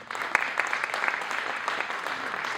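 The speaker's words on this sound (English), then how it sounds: "please don't clap" An audience claps in a steady, dense wash of applause that holds at an even level throughout, with no voices over it.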